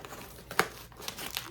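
Plastic packaging crinkles and tears in a few short, crisp bursts, close by, with a quiet background.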